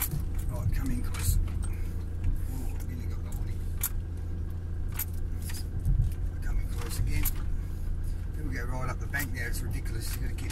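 A vehicle pulling a trailer off-road among trees: a steady low engine rumble with rattling and clinking from the load, close, while people talk over it.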